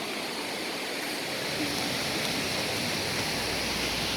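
Spring water pours steadily into a bathing pool, a constant loud rushing hiss like a small waterfall, close by and without voices.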